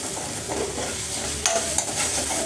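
Drumstick vegetable pieces stir-frying with red chili powder in a pan, a dense close sizzle with stirring scrapes and a couple of sharp utensil clinks near the end.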